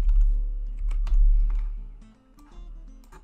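Keys clatter on a computer keyboard while text is typed into a Photoshop design, an irregular run of close, crisp clicks and taps with brief pauses between bursts.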